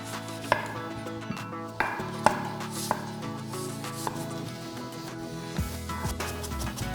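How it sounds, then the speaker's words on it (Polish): A knife chops on a board, slicing a garlic clove and dicing an apple. Sharp, sparse taps come at an uneven pace over soft background music, with no voices. "Ząbek czosnku pokroję w plasterki jabłuszko w drobną kostkę."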